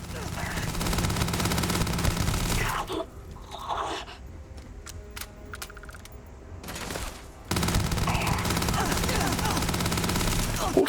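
Rapid automatic gunfire from a gun in the video game Starfield, dense bursts filling several seconds before and after a quieter gap with sparse clicks and interface tones.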